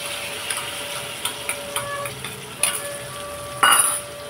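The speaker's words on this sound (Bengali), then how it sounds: "চলুন মশলাটা কষিয়ে নিই" Soft sizzle of spice paste frying in a pan with intermittent scraping and clinks of a utensil stirring, a few sharper metallic knocks near the end.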